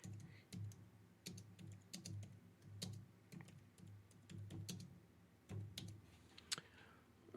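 Computer keyboard typing with a faulty, unresponsive set of keys, close-up clacking in irregular bursts and single taps, quiet room with no talking.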